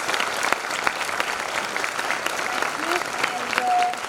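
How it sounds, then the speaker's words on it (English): Audience clapping at a school inter-house senior English debate, a steady wash of many hands close by with a few sharper individual claps, running throughout alone. "So a round of applause."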